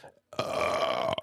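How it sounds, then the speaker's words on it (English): One long, loud, rumbling burp lasting about a second, heard alone at close range after a brief quiet gap. "I'm burping like a storm"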